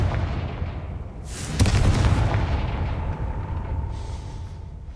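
Confringo fire spell blasting in the Hogwarts Legacy video game: a sharp explosive boom with a burst of crackle, a lingering rumble and a fainter second hit near the end.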